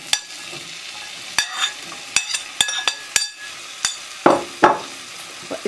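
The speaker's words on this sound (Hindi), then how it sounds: "इसको थोड़ा सा फ्राई करेंगे।" Chopped onions frying in a pan of spices and cardamom seeds for a shahi paneer gravy: a steady sizzle broken by about a dozen sharp scrapes and knocks of a spoon stirring, close and fairly loud.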